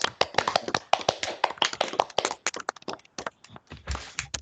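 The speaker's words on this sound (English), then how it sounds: "So I'd just like to give everyone a round of applause." Clapping from an audience at the ASHRAE UK Midlands 2021 student competition after the presentations: a dense, fairly close patter of hands that holds steady for several seconds and thins slightly near the end.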